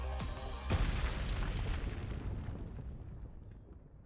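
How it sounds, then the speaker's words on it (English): Neural Cloud game cannon beam shattering an asteroid: a deep booming blast with a sharp crack near the start, followed by a long rumbling decay that fades out, no speech. "The asteroid is obliterated by a beam of light and shattered into countless smaller fragments"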